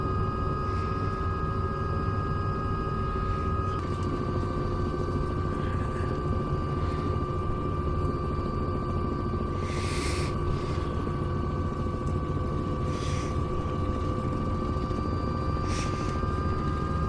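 A helicopter in Microsoft Flight Simulator 2024 drones steadily throughout, a constant rotor and turbine hum with a high whine, interrupted by a few short hissy bursts.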